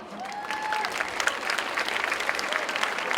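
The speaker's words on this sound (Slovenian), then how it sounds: "bravo, še en aplavz" Audience applause after a speaker's thanks at a school gymnasium stage event, dense steady clapping filling the room from start to end, with a few faint whistle-like tones over it.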